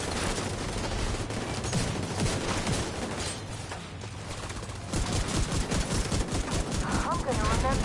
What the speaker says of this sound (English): I love the way those shotguns take those guys out